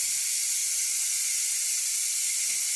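Steady hiss of steam venting from a Ninja Foodi pressure cooker, a continuous high, even rush running unbroken and alone, with faint low thumps beneath.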